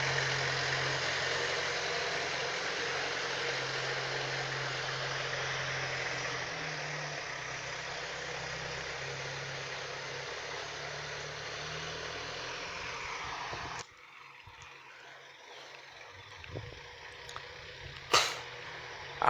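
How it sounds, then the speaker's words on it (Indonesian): A 4x4 off-road jeep rolls at low speed in low gear, its engine giving a steady, loud close drone that drops off abruptly near the end, leaving quieter ambient noise and a few knocks. "karena menggunakan mobil 4x4 ini kecepatannya cukup rendah, berani mengendarai sendiri"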